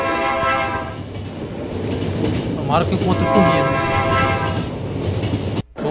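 Train rolling in The Final Station, with a steady rumble and clickety-clack, a brief horn-like tone midway and a sharp cut near the end, while a voice talks over it.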